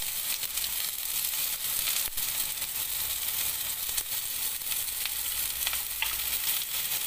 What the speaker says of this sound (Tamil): ஆனியன் நல்லா கோல்டன் கலருங்க, நல்லா ஃப்ரை ஆகணும்